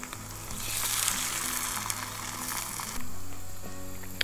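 Potatoes fry in a greasy pan at a riverside tent campsite, giving a steady close sizzle with crackling spatters. A low hum runs underneath, and the frying swells slightly partway through.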